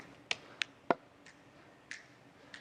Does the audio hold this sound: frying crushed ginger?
no